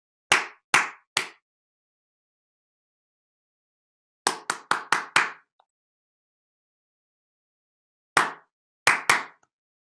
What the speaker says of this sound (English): So I'm going to clap my hands and you will answer me.